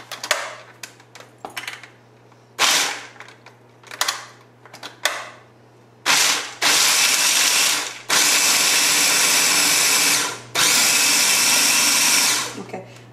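A mini Cuisinart food processor grinds nuts in a small apartment kitchen, first in several short pulses and then in three long, loud continuous whirring runs, with a steady low hum underneath.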